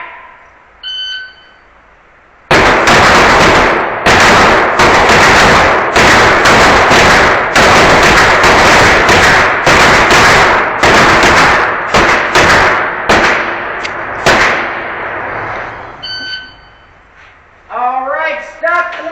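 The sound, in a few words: Glock pistol gunfire at an indoor shooting range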